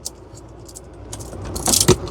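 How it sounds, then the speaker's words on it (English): A loose metal bar, unattached on one side, rattles and jangles inside a small van, a light clinking that swells into a louder burst near the end, close over low vehicle rumble, with no speech. "This bar is not attached on one side, so it rattles."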